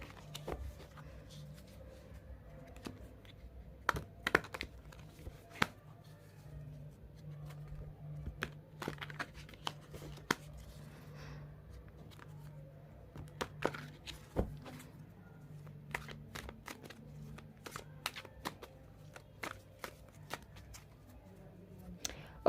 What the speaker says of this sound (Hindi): तब तक मैं कार्ड को शफल कर लेती हूँ।